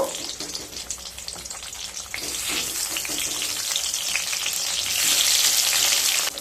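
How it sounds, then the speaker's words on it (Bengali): Eggplant slices sizzle in hot mustard oil in a wok, a close, steady crackling hiss that grows louder and brighter toward the end, with no talking. "এবার কড়াইতে সর্ষের তেল দিয়ে দিলাম। তেলটা গরম হয়ে গেছে। এবার বেগুনগুলোকে ভেজে নেব।"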